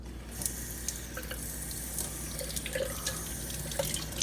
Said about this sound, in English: We're going to rinse these.